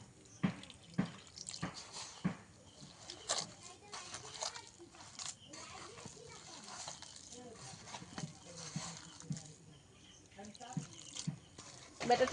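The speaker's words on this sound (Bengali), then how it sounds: "উষ্ণ গরম জল দিয়ে দেব, হালকা করে দেব। অল্প করে আবারও জলটা দিয়ে দেব।" Warm water is poured a little at a time into palm pitha batter, giving soft splashes and drips with mixing clatter, close and fairly quiet, with a voice now and then.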